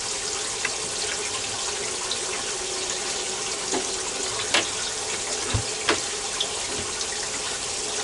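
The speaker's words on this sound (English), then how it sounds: "I'm gonna go get some warm water and I'll put that in there." Warm water runs steadily from a tap for several seconds, a continuous hiss and splash close by, with a few small drips and clinks over it and no talking.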